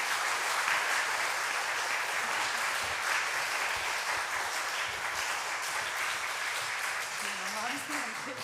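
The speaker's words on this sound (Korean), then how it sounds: "박수하겠습니다." A church congregation at an afternoon worship service breaks into loud, sustained applause welcoming a pastor's wife to the stage, a steady roar of many hands with a voice faintly emerging near the end.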